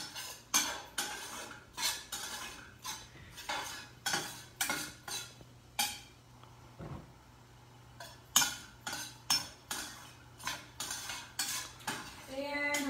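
A vegetarian tofu dumpling filling is sautéed in a pan, with a utensil repeatedly scraping and clinking against the metal in uneven, rhythmic strokes. It is fairly quiet and close, with brief pauses between bursts and no talking.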